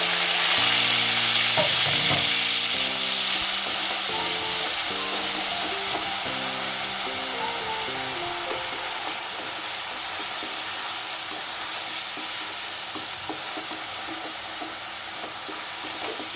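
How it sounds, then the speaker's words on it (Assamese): Ground onion paste fries in a wok for a prawn malai curry, making a steady close hiss and crackle that eases slightly over time, accompanied by background music and no speech. "পিঁয়াজখিনি ধুনীয়াকৈ ভাজি ল'ব লাগিব।"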